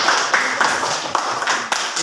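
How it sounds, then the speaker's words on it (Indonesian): A small classroom group claps for a student group, the hand claps coming in quick irregular bursts, fairly close and moderately loud, with faint voices underneath. "Oke, tepuk tangan dulu untuk kelompok kita."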